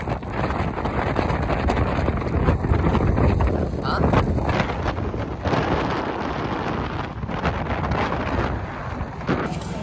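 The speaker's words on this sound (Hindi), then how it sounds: "इधर हवा अच्छी चल रही है" Strong wind buffets the microphone outdoors near a market area, a loud rumbling gusty roar that surges and eases in waves across the whole stretch, with no clear talk over it.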